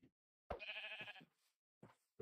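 A sheep in the Minecraft video game gives one clear, close bleat, followed by short fragments of another.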